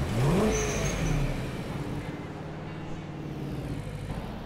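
A stolen car's engine revving in LEGO City Undercover, a rising mid-pitched growl that peaks early and then settles into a steadier, quieter drone.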